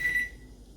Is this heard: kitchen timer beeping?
yes